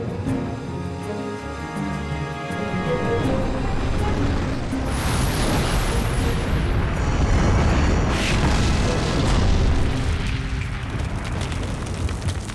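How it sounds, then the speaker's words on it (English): Tank guns fire repeatedly during a large tank battle between American and Iraqi armored forces, heavy booms and blasts overlapping in a dense, continuous roar of explosions at close to mid distance. "Ghost Troop fires repeatedly until the Iraqi tank company is all but destroyed."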